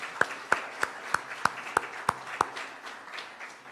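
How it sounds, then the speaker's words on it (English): At the Eswatini Economic Forum 2022, a handful of slow, evenly spaced claps ring out faint and distant, about eight sharp strikes in a row before they trail off into the room's quiet hum. "If we can just maybe give them a round of applause,"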